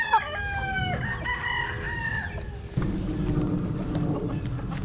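Young gamecock stags around six to seven months old crow on a farm, several crisp nearby cock-a-doodle-doo calls overlapping and followed by low clucking and rustling.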